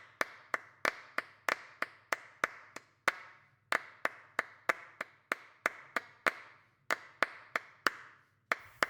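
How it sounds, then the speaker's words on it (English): Hand clapping performing Steve Reich's 1972 minimalist piece Clapping Music: sharp, dry claps in a steady interlocking pattern, close and crisp, with no voices. "Listen to Steve Reich's 1972 piece called Clapping Music."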